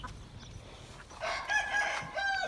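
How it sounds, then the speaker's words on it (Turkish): A rooster crows in the second half, fairly faint and a little distant, a stretched tonal call over quiet outdoor background. "Çok yaramaz bir horoz bu"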